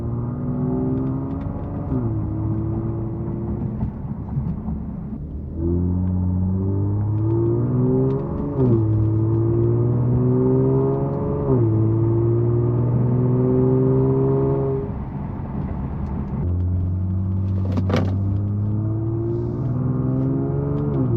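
Genesis G70 fitted with a Borla exhaust accelerates in comfort mode, its engine note rising steadily through the revs and dropping at each of several gear shifts, a smooth continuous drone heard close and alone without talk.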